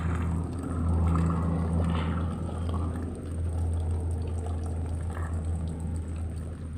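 Light rain falling outdoors with water running and trickling, a continuous soft wash over a low steady hum, fairly close and even throughout, with no speech.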